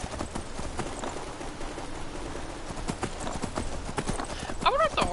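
Rapid clip-clop of galloping horse hooves in the video game Skyrim runs steadily throughout, with a short horse whinny near the end and a voice speaking over it.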